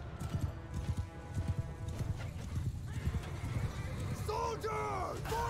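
Horse hooves clip-clop rapidly through a Bannerlord battle with cavalry fighting, a horse whinnying near the end, all beneath steady battle noise and voices.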